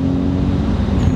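A Lexus GS300 fitted with a twin-turbo 2JZ-GTE engine accelerates with a loud, close, steady engine roar and a low droning tone, heard from inside the car over a short moment.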